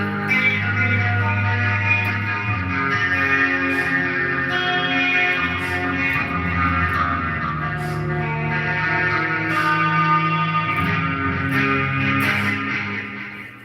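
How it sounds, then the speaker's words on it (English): Electric guitar played with a wah effect, a continuous sweeping, vocal-like filtered tone with sustained chords and notes, loud and close. "That's what it sounds like cleaning the wah pedal."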